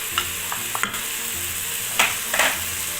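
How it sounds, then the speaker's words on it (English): Pilau ingredients sizzle steadily in a pot while a utensil stirs and scrapes in occasional short strokes, close up and without talking. "We've been frying for 10 minutes already."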